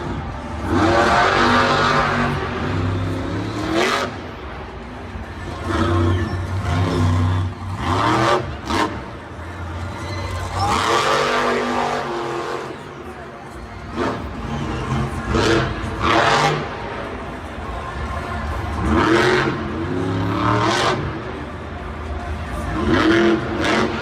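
Monster truck engine roaring at a Monster Jam stadium show, the Mohawk Warrior revving in repeated loud surges and drops, with commentary voices over it.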